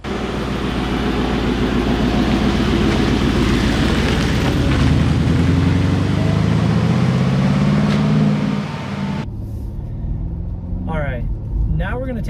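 Mercedes G550 twin-turbo V8 under way, a loud, continuous engine roar with rising and falling revs as it accelerates, then easing to a quieter cruise near the end.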